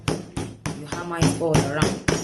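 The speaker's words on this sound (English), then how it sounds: "you hammer it all around" A shoemaking hammer strikes around the edges of a shoe, landing about eight sharp, separate blows in an irregular rhythm, close and fairly loud.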